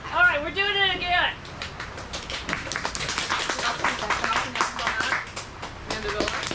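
An audience claps to vote for a plant, a Mandevilla, a burst of scattered handclaps at moderate distance mixed with voices and chatter, following a brief tonal sound at the start.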